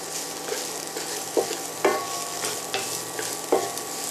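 Sliced yellow and red onions sizzle in hot oil as a utensil stirs them around the pan, with a steady frying hiss broken by several distinct scraping strokes, close and clear with no talking.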